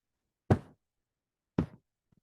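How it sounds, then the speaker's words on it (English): Fists knock on the lower back over the kidneys during a qigong exercise, giving two separate dull, soft thumps about a second apart in otherwise quiet surroundings. "You're knocking on the kidneys"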